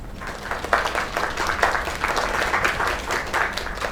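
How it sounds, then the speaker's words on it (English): Steady audience applause from a crowd in a video game, many hands clapping together at a fairly even level for several seconds. "Another round of applause."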